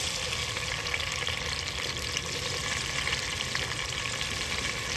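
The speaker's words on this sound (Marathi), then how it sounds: "पहिला आपण कांदा टाकून घेऊया।" Onion frying in an oil-filled pan for poha, with curry leaves, peanuts and green chillies already in, giving a steady, close, continuous sizzle throughout.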